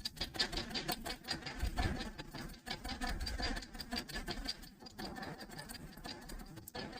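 A sewing machine stitches a folded fabric neckline for a round or square neck, running in fast rattling bursts with brief pauses, close and fairly loud.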